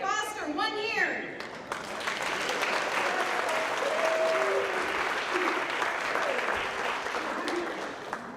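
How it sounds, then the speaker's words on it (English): Sustained audience applause fills a company celebration hall after an employee's years-of-service recognition, steady and broad, following brief speech at the start. "So please hold your applause."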